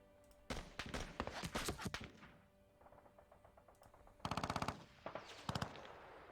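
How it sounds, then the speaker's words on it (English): Rapid machine-gun bursts rattle in a video game set in Kyushu, Japan, in 1945, several loud automatic volleys separated by short gaps, with occasional single shots and quieter distant fire. "So open fire on these guys."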